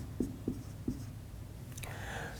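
Chalk or marker writing on a board during a math lesson, three short distinct strokes close by, followed by a soft rustle.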